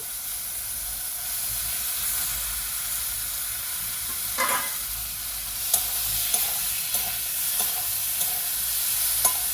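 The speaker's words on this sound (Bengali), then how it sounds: "কচুটাকেও ভালো করে কষিয়ে নেব" Boiled taro stir-fried with tomato and onion, a continuous hissing sizzle with repeated spatula scrapes and taps against the pan, close and fairly loud, without talk.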